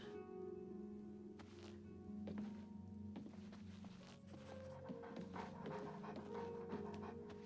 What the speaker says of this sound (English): Oh, those puppies.